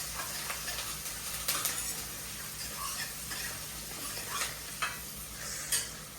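Onion and green chili sautéing in a pan give a soft, steady sizzle, with intermittent clicks and scrapes as a spoon stirs the pan now and then, and no talk.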